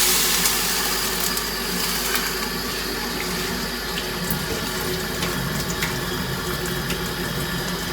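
Tap water runs loud and steady into a kitchen sink while a pan is washed, a continuous close splashing rush with faint clinks and no talking.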